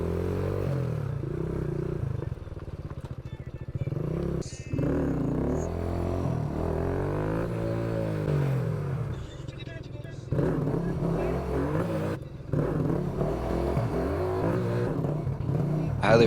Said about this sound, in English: I threw this little escape route clip in here just to show you guys how much I love riding this bike around